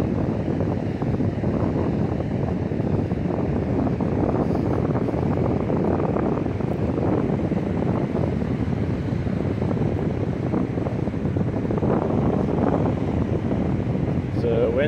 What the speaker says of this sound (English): the wind's starting to pick up a little bit more